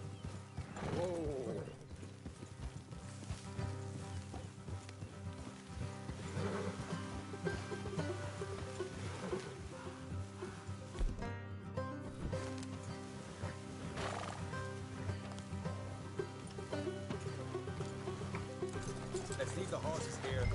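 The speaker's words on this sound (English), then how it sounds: "Let's leave the horses here and go the rest on foot." Horses trotting with rhythmic clip-clop hoofbeats in Red Dead Redemption 2, heard under steady music and game ambience while voices talk.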